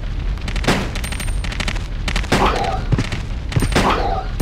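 Gunfire in Resident Evil Code: Veronica X, loud repeated shots in quick bursts with booming impacts, dense and close, with little else over it.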